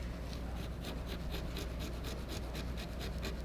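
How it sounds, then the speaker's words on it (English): A scraper works a tenacious white lead paint layer, softened with solvent gel, off gilded wooden furniture, making a continuous close rasping scrape in rapid, regular strokes. "So more solvent gel, and then more scraping."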